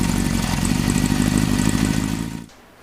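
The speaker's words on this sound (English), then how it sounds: "Okay, the bike's warmed up." Warmed-up barn-find Honda CB750 motorcycle engine running close and loud with a steady, clattery idle, then cutting off abruptly near the end.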